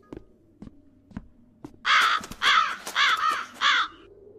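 Harsh crow-like caws from a bird in a video game, four or five rapid raspy calls in a burst after a few faint taps, fairly close and clear with no talk.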